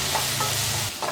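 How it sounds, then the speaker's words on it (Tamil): Onions and curry leaves sauté in a pan for a tamarind okra curry: a brief, loud, even sizzle with a faint scraping stir near the end. "வெங்காயம் நல்லா வதங்கிடுச்சு."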